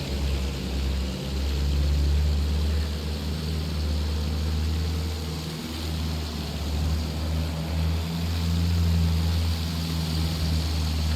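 Propeller airplane engine in the video game Battlefield 1, a steady loud droning hum with a low throb that swells and eases slightly as the plane flies, with no talk.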